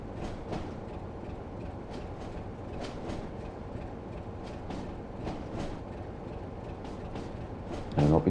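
Class 33 diesel train in Train Sim World 2 on the West Somerset Railway, an empty stock move to Minehead, with a steady rumbling engine and rail noise and regular rhythmic wheel clicks throughout, a louder burst at the end.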